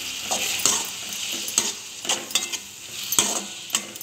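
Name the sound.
tomato sautéing and sizzling in a pan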